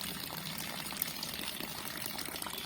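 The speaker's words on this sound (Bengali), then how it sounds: "আমাদের এই যে সেই কলের থেকে জল পড়া শুরু হয়ে গেছে" Water running from a newly installed tap, a soft, continuous trickling flow heard faintly and steadily for a few seconds with no voices.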